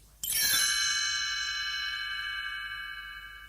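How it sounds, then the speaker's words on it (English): A single bright chime rings out once and lingers, its shimmering tone slowly fading over several seconds with nothing else around it. "You will know it is time to turn the page when you hear the chimes ring like this."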